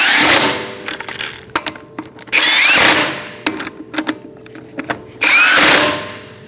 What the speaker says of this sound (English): Walk the wheel on with your bottom lug nut. And then in a star-like pattern, you're going to tighten them up.